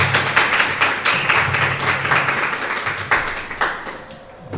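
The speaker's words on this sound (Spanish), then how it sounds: "un aplauso grande, por favor, para él." An audience claps for an author at a literary talk about Sherlock Holmes, a fairly close, uneven patter of individual hand claps that thins out toward the end.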